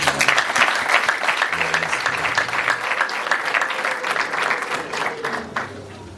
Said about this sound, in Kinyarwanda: Nongere mukoma amashyi dushimire.